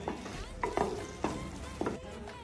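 Fried mushrooms being stirred through a cashew-thickened sauce in a pan, four or five soft scraping strokes in an even rhythm over a low simmering sizzle.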